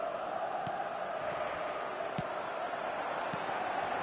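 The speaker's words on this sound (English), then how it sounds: "at least the crowd are appreciative of his efforts" A stadium crowd roars steadily in an eFootball match, a constant dense wash of cheering with a few faint thuds, sustained throughout without any clear voice.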